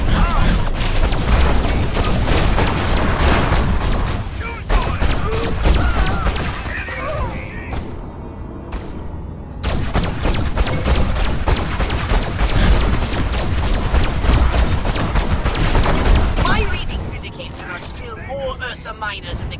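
Weapon fire in the video game Destroy All Humans! 2, dense rapid bursts of blasts and booms with crashing impacts, briefly pausing before resuming, mixed with voices talking over the action.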